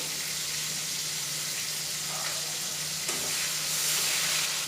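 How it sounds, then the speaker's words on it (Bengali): Ginger, garlic and onion paste with tomato and spices fry in hot oil, giving a steady, close sizzle that swells slightly louder near the end, with no talking. "আদা রসুন পেঁয়াজ বাটা টমেটো সমস্ত মশলাগুলোকে একটু ফ্রাই করে নিচ্ছি"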